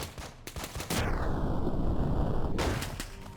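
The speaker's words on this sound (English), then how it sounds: "I'm actually gonna want to use a grenade." A frag grenade goes off in the tactical shooter game Breach & Clear: a few light clicks, then a loud, close, roaring blast that lasts under two seconds before fading.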